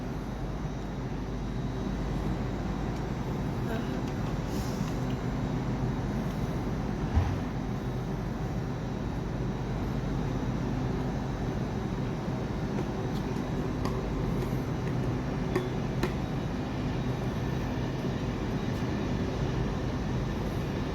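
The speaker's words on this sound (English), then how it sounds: "That's the Class 91s." A Class 91 locomotive with nine coaches runs on a model railway layout, giving a steady, continuous rumble of wheels and motor that holds evenly throughout, with no talking.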